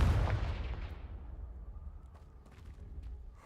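A Confringo fire spell from the Hogwarts Legacy video game explodes against a pile of debris, making one heavy, booming blast at the start with a deep rumble that fades slowly over several seconds.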